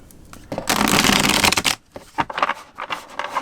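Nightmare Before Christmas tarot cards are shuffled by hand in a loud, dense riffling burst lasting about a second, followed by several shorter, softer shuffles and card flicks close by.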